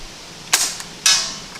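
Two sharp air rifle shots firing Sig Sauer Match pellets at a 50-yard target, each a short bright crack with a brief hiss of released air, spaced about half a second apart outdoors.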